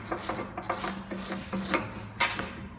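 Someone scrapes clean the mating surface of a Renault Duster 4x4 transfer case during a bearing and seal job: steady, close rasping strokes repeat in a rough rhythm with a few sharper scrapes, and no voices.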